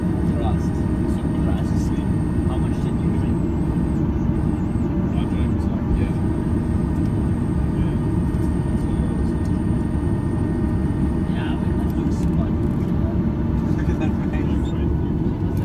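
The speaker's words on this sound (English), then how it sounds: "the flaps are being extended" Steady, loud cabin roar inside a Norwegian Boeing 737-800 on a London Gatwick to Stockholm flight as the flaps extend, a dense unbroken engine and airflow rumble with a faint whining tone near the start.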